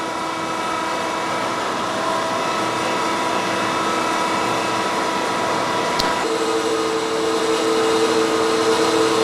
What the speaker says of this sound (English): wait 20 seconds after it starts to bubble and then shut the pump off with the yellow lever